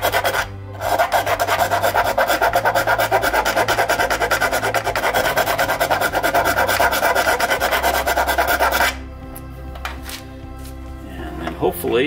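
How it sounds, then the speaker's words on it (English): A circular file rasps steadily against a plastic part of an AMT 1/420 USS Defiant model kit, a continuous loud scraping for about eight seconds, then gives way to quieter handling sounds with a voice talking. "Sorry about the file noise."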